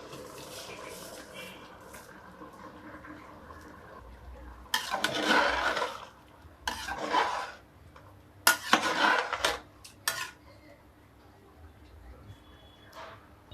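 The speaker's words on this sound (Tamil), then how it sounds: "இப்போ இந்த அரிசிக்கு தேவையான அளவு தண்ணி ஊற்றியாச்சு" Water is poured into a pot of rice for chicken biryani in several close, splashing bursts over a quiet kitchen background, with a voice faintly present.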